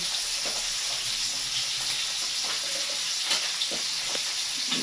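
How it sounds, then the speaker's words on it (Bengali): Hot oil sizzles and spatters steadily in a new, larger kadai while Bengali fish curry with potato and pointed gourd fries, a dense close hiss with scattered small pops and crackles. "বাবা কত দূর তেল ছিটে ছিটে আসছে।"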